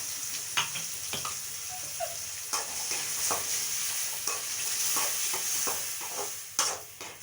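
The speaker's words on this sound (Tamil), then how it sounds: "ஒரு 3 தக்காளி அரைச்சி ஊற்றிட்டு எல்லாத்தையும் வணக்கிக்குங்க." Ground tomato masala sautés in a pan for a kulambu, giving a steady soft sizzle with repeated scraping stirs of a spoon at close range.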